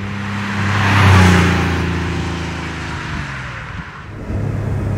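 A 1989 Porsche 911 Speedster engine hums and swells steadily while driving, rising to a fuller rumble early on, then easing back to a smooth cruising drone with road noise.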